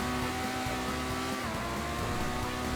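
A car engine in the video game GTA 5 drones steadily at a loud, close level, with a sustained tone that shifts slightly in pitch and no voices over it.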